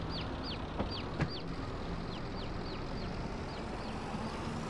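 Chickens in a farm roleplay video game cluck in a quick series of short, faint calls over a steady background hum, with a couple of brief knocks partway through.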